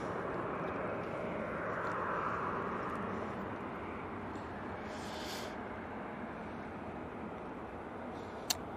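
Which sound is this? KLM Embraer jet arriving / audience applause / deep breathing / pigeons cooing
KLM Embraer jet arriving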